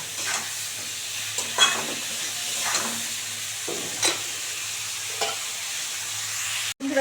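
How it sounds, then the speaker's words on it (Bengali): Cauliflower frying in oil in a pan, a soft steady sizzle broken by several scraping stirs at intervals, fairly quiet and close. "কপিটাও ভালো করে লাল করে ভেজে নেবো, এই তেলেই ভেজে নেবো"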